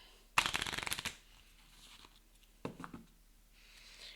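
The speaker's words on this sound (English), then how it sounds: "We're gonna pull 10 tarot cards, so I have shuffled these and mixed these together." Tarot cards shuffled close up for a Final Girl board game session, a quick rapid riffle burst, then a second shorter shuffle a moment later.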